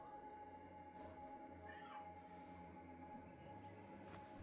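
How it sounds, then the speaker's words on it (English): A pet cat meows faintly indoors, a few soft calls rising and falling over a steady low background hum, with no talking. "My cat's meowing."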